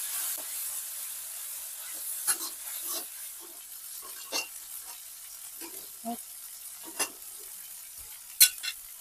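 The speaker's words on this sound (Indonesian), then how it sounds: "Di sini kita mau tumis dulu bumbunya." Spice paste sautéed in hot oil for a banana blossom dish, with a soft steady sizzle broken by repeated scraping stirs and clatters of a spatula against the pan.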